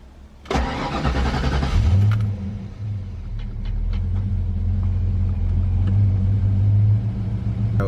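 A 5.0L V8 in a Ford Mustang Cobra Fox Body cranks briefly, catches, and settles into a low, steady idle; the engine has a misfire and runs on seven cylinders, close and loud with no talk.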